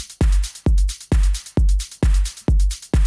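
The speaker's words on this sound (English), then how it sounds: "Okay, so I've added some hi-hat layers that sound like this." Layered drum hits in a dance track production, a steady pattern of punchy beats with bright hi-hat layers on top, repeating about every half second, loud and alone with no voice.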